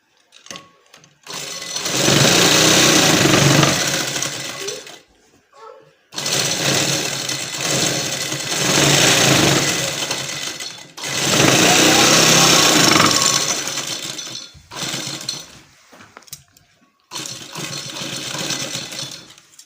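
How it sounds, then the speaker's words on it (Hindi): A sewing machine stitches along the edge of a trouser hem in long steady bursts of rapid mechanical clatter, separated by brief pauses where it stops and restarts. "अब इसके किनारे किनारे पे हम सिलाई लगाएंगे"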